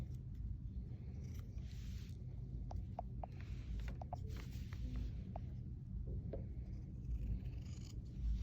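Scissors cutting through quilted fabric for a pet stocking, a series of soft, close snips and crisp cuts over a steady low room hum, faint and alone.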